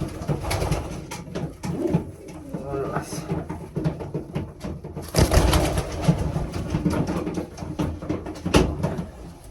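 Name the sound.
tiger pigeons cooing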